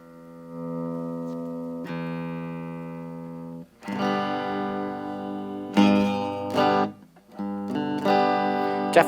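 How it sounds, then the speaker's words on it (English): Sustained notes from a Harley Benton ST-Modern HSS electric guitar ring out in several strummed phrases, slightly out of tune, with a gritty, buzzy edge from string buzz and no talking. "Definitely have some buzzing."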